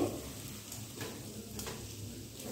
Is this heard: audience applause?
no